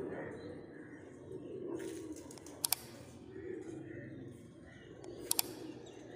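Soft cooing of pigeons with young murmurs low in the background on a rooftop, with a couple of sharp clicks and faint ambient noise around it.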